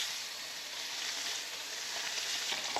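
Trout and flounder fillets sear in a hot, smoking pan, giving a steady, close, continuous sizzle with faint crackles and no talking.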